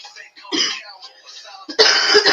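A person gives two coughs, a short one followed by a louder, harsher burst, close to the microphone with quiet pauses between.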